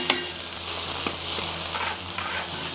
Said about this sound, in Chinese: 我们也给它炒在一起把这前面焯好水的这些配菜给它倒下去也给它炒一下